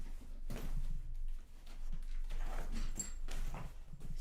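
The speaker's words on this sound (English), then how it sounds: "We have this dog." A dog whimpers and yips softly in short bursts, close by indoors over a steady low background hum, with no one talking.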